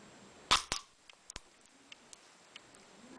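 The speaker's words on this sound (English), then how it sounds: "And crack the nut open." A black walnut shell cracks in a vise: two sharp, close snaps in quick succession, followed by a few faint ticks and small cracking sounds as the shell settles, in an otherwise quiet room.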